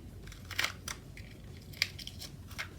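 Scissors make several sharp, close snips as they trim a classic-size paper sticker, with a few quiet crinkles between cuts.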